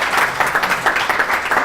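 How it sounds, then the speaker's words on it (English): An audience claps at a media conference, a brisk, close round of applause with rapid uneven hand claps and no talk. "Once more, people, a nice round of applause for Glelton."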